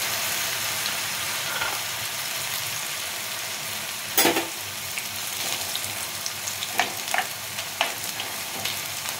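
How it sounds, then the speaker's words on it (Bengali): Sliced taro root frying in hot oil for homemade chips, with a continuous hiss of bubbling oil and several brief scraping stir sounds in the second half, no voices. "তেলটা গরম হয়ে গেছে। এরপরে আমি স্লাইস করা কচুগুলো দিয়ে দিচ্ছি।"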